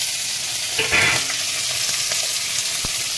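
Green chillies dropped into hot oil in a pan set off a dense, steady hiss with a brief brighter flare of crackling partway through and a single sharp tap near the end, close and fairly loud.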